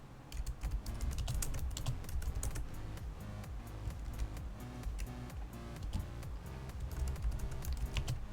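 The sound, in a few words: typing on a computer keyboard in a typing game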